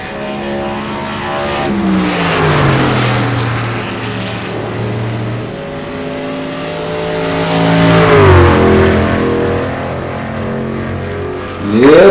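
A race truck's engine revs in a sim racing video game, its loud steady drone rising and falling in pitch through several gear changes, with a sharp climb near the end and no voices.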